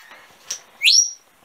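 A pet parrot gives a short whistled chirp, then a louder rising whistle, both close and clear against a quiet room.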